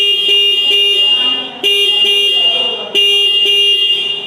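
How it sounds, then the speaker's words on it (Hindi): Loud, close Bajaj CT 125 motorcycle horn honking repeatedly: three sustained blasts with short stutters between them, bright and slightly thin in tone, no voices. "अब देखते हैं हम लोग CT 125 का हॉर्न।"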